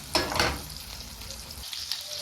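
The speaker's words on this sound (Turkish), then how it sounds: "Köftelerimiz gördüğünüz gibi cazır cazır pişiyor" Cızbız köfte meatballs sizzle and crackle steadily in a hot frying pan at home, a constant hiss with a few louder pops near the start.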